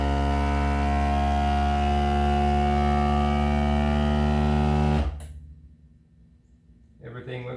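A FoodSaver vacuum sealer, used here as a vacuum press for veneering, runs its pump in a loud, steady, buzzing drone for about five seconds, then stops abruptly, leaving faint rustling and a weak hum.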